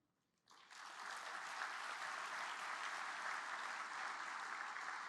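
Applause from a luncheon audience breaks out suddenly after a near-silent moment, then holds as a steady, broad wash of many hands clapping without any voices over it.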